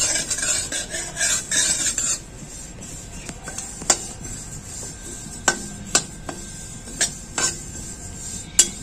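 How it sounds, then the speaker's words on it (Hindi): Sesame seeds, about 200 grams, roasting in a pan for milk cake, first a dry rustling sizzle as they are stirred, then quieter with sharp spoon taps and clinks against the pan at irregular intervals. "200 ग्राम तिल ले लिया हूँ, उसको भून लेते हैं।"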